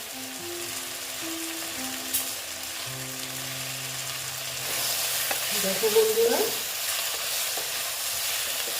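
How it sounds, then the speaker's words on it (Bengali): Eggplant and small tengra fish with potato fry in a pan, a steady sizzle with stirring scrapes that grows louder and brighter midway, someone briefly speaking over it. "বেগুনটা একটু ভাজা হবে"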